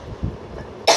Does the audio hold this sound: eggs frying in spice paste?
no